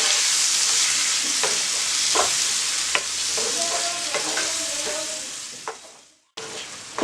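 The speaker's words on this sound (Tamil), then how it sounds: "தக்காளி, இங்கே அரைச்சி வச்சுருக்கிற தேங்காய். இதை வந்து நல்லா கலக்கி விடுங்க." Tomato and ground coconut paste stirred in a hot pan for jeera mutton, a loud continuous sizzle with spoon scrapes, a brief dropout near the end, and no voices.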